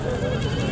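Black and grey male goats, offered for Qurbani sacrifice at the Mandra livestock market in Chakwal, bleat briefly at close range against a dense, noisy market background.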